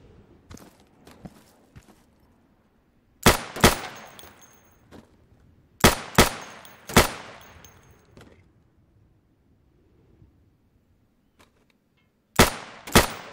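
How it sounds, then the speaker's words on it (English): Pistol shots ring out at pop-up targets on an Insurgency game training range, loud sharp cracks in pairs and short bursts with gaps between, each trailing a brief echo, alongside faint footsteps and clinks. "So you can shoot accurately over 20 feet with your sidearm"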